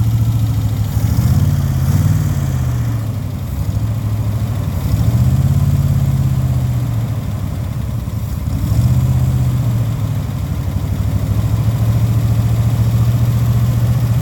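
A small carbureted engine with a newly replaced carburetor idles steadily at a fairly high, rough, throbbing pace, running continuously up close with slight rises and dips in pitch.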